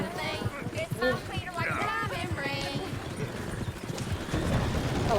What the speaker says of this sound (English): Is one of you gonna get that fella's horse?